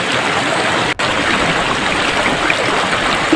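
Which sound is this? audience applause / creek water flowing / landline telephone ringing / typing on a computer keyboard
creek water flowing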